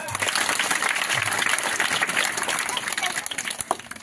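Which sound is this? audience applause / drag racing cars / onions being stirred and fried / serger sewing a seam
audience applause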